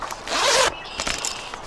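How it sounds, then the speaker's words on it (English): A zipper on a fishing bait bag is pulled in one quick, loud rasping stroke, followed by softer fabric rustling and small handling clicks close by. "You got a zipper."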